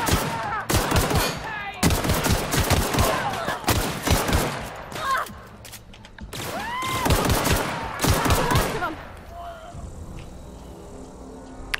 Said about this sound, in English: I can't get my right gun going